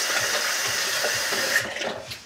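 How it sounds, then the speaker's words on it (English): Tap water runs steadily into a sink while a hand is washed, then the flow tapers off and stops near the end. "I'll wash my hand off real quick."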